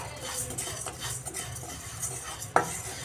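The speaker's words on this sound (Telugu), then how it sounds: "మూడు టీ స్పూన్లు మెంతులు లో ఫ్లేమ్లో మనము ఫ్రై చేసుకుందామండి" Fenugreek seeds being stirred in a pan over a low flame, a soft scraping stir with quiet sizzle throughout and one sharper clink of a utensil near the end.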